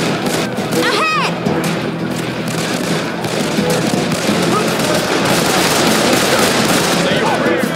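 Rapid gunfire from a police and FBI shootout during a chase in Call of Juarez: The Cartel, loud bursts and shots crackling over dense game noise with shouting voices throughout.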